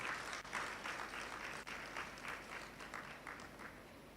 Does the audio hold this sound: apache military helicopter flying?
no